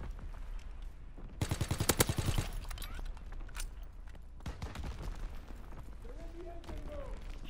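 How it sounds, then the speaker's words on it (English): Shotgun blasts in Call of Duty: WWII, a rapid cluster of loud sharp shots in the middle amid other game gunfire and effects, with a voice talking around them. "Shotgun sounds so scary on this game."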